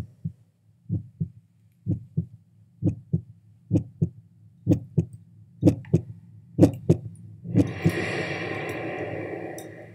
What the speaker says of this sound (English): perhaps we can even hear our own heartbeats